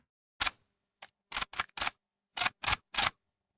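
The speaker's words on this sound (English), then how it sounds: "We've got a camera shutter click." A series of sharp, crisp AI-generated camera shutter clicks, eight in all, spaced irregularly with brief silences between them.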